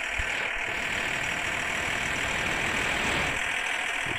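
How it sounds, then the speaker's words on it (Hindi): A tractor engine runs at speed with a steady, mid-pitched mechanical rumble and knocking, continuous and fairly close, with no talking over it. "बहुत तेज़ी में ट्रैक्टर चल रहा है"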